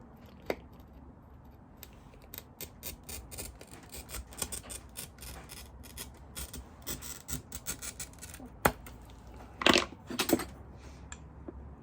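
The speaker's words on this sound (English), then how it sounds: "we can cut out the last petal" Cutting a water lily petal shape for a mosaic, a dense run of small crunching snips and rasping cuts, close and steady, with a couple of louder crackling bursts near the end.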